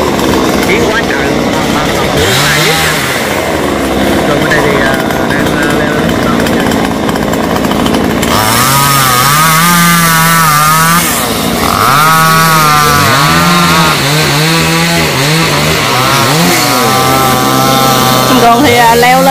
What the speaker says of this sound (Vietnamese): Sẵn cưa tiếp tục nhánh phần phía trên nữa.